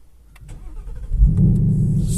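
A Ford Mustang 5.0 engine is started. The starter cranks briefly, then the engine catches and settles into a loud, deep, steady idle rumble, heard close and with no talking.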